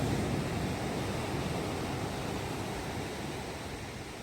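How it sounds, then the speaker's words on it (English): Ocean waves washing onto a beach in Ventura at night, a steady wide hiss of surf at moderate distance that fades slightly toward the end, with no voices. "let's take a moment to listen to the beautiful waves for about a minute."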